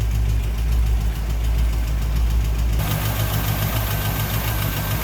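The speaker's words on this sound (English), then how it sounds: "Get that 429 V8 fired up." A 1964 Cadillac Sedan DeVille's 429 V8 engine idling nearby with a deep, lumpy rumble that swells partway through, loud and steady with no talk.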